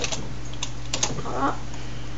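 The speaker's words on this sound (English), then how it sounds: "I'm just typing" Typing on a computer keyboard gives a few quick, light key clicks at close range over a steady low hum, with no talking.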